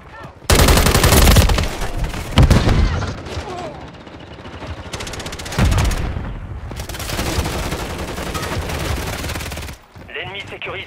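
Call of Duty gunfire crackles loud and close in long, dense automatic bursts with heavy booming shots, barely pausing and dropping away briefly near the end.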